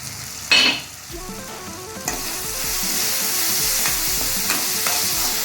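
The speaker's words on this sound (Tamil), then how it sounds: "தக்காளி நல்லா வதங்கிருச்சு" Tomatoes sizzle steadily in a hot pan while a utensil stirs and scrapes, with an occasional clink; no talking.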